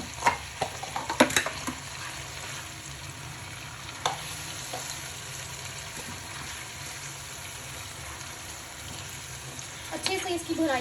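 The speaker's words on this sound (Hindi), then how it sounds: "अच्छे से इसकी भुनाई करेंगे 1-2 मिनट।" Ginger garlic paste roasting in a pot of oil for a beef yakhni pulao, a steady close sizzle broken by scraping stir clatters near the start and again at the end.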